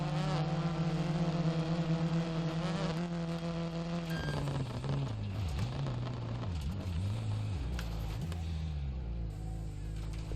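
Damaged rally car engine in Dirt Rally buzzing with a strained, droning whine whose pitch holds steady then wavers and drops, loud and close throughout.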